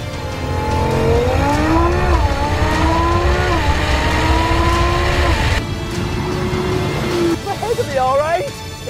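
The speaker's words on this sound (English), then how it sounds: "this RS6 just motors from the line." An Audi RS6 launching hard from the line in a drag race, its engine loud and climbing steadily through the gears, close and continuous, with a voice talking over it.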